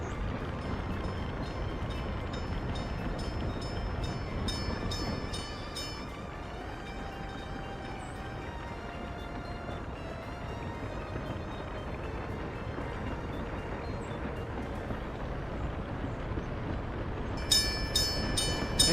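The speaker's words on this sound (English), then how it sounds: "Hey, that's our train that got repaired." A repaired train runs in a 1900-era railway management video game, a steady rumbling roll with tonal hum and bright metallic ringing bursts near the start and end, continuous and moderately loud without talk.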